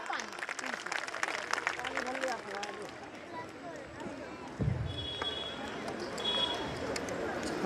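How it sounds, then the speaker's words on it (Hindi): Applause at a school annual function, with a crowd clapping steadily while voices talk and call out over it. "Give a huge round of applause, audience."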